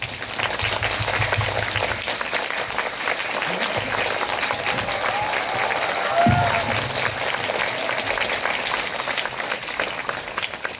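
An audience at a Korean film talk event for the movie Method applauds to welcome the director and lead actors, a steady, dense wash of clapping that fills the room throughout, with a voice briefly heard underneath.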